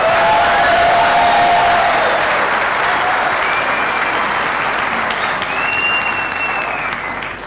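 Sustained loud audience applause filling a hall during a talk by Dr. Vitthal Kamat, dense clapping throughout with a few faint cheers, tapering slightly at the end.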